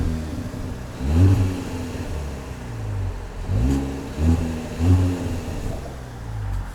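Manual 2021 Kia Forte GT with 201 horsepower, its engine revving in several rising pulls heard from inside the cabin, each climb in pitch followed by a drop, loud and close.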